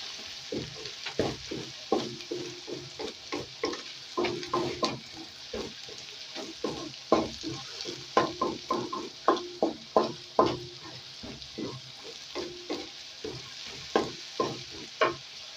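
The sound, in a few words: onions and minced meat frying in pan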